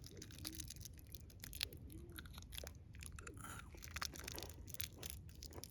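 Close-up crunchy chewing of Chiclets gum, moist biting and crackling in an irregular rhythm over a low steady background hum.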